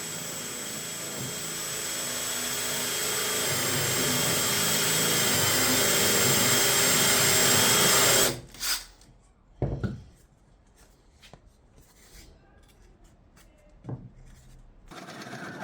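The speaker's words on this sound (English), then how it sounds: "Then I drilled a bigger hole for installing and removing the insert" A power drill bores a larger hole through a table saw insert, a steady loud whirring drone that builds for about eight seconds, then cuts off, followed by a few brief clunks and handling knocks in near quiet.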